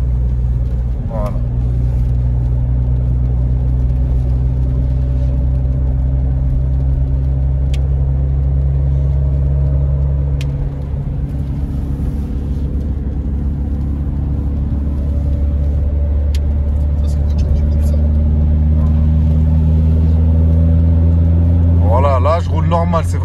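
Inside a Renault Clio 4 RS on the move, a steady low engine drone and road rumble fill the poorly insulated cabin, loud and continuous, with someone talking over it throughout.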